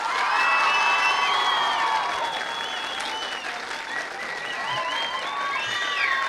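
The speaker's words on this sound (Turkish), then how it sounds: "Arkadaşlarımıza bir alkış verelim şöyle" An audience at a school debate competition final in Ereğli applauds the contestants, loud continuous clapping mixed with shrill cheers, whoops and children's shouts rising and falling across the hall.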